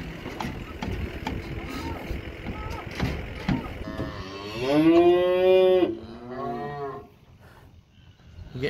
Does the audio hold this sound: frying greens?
no